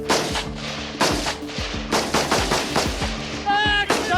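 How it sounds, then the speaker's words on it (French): Live rounds cracking in rapid bursts during a French gendarmerie shooting drill in Guyane, sharp close shots overlapping in fast volleys with booming echoes, and a brief ringing tone near the end. "les gendarmes vont tirer à balles réelles"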